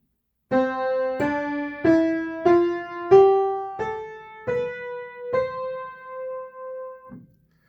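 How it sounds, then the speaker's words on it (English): Eight keyboard notes climb step by step in an ascending major scale, each struck and left ringing, evenly paced and played alone. "The major scale played sounds like this."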